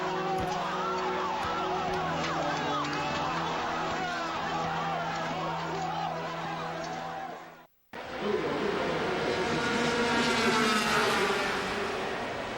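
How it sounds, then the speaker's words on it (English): Engines roar and whine past in waves at a Grand Prix motorcycle race in Shanghai, with a brief cut midway followed by a rising high-pitched buzz of racing motorcycles. "For the very first time, a Grand Prix motorcycle race is being held in China."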